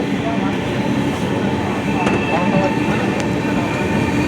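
A Duronto Express passenger train runs steadily past a stopped freight train on its way toward Howrah, with a dense, continuous rumble of wheels and carriages and faint rail clatter throughout.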